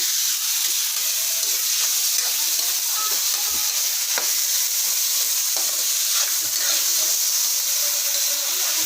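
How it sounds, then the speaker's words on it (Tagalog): Fresh shrimp paste (alamang) sautéing in a pan, a steady loud sizzle and hiss with occasional scrapes and clicks of stirring, continuous throughout without talk. "Gisa lang po ng gisa."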